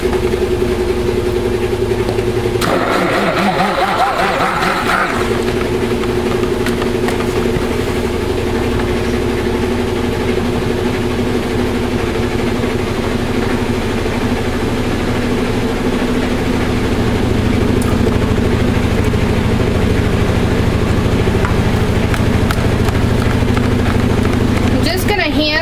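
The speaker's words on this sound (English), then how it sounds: "And, of course, the washer's going to spin right now." A household washer in its spin cycle, a loud steady low drone and rumble that hums continuously up close throughout, with a person speaking over it.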